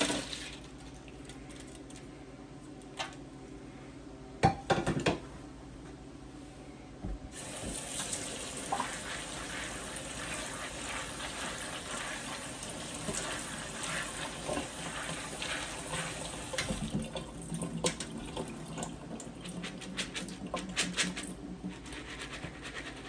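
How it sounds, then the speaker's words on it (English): Pumpkin seeds being rinsed in a strainer under a steady stream of running tap water, a continuous hiss after a few clinks and knocks at the start, with occasional faint rattles of the seeds. "put the seeds in the strainer and rinse them off really well"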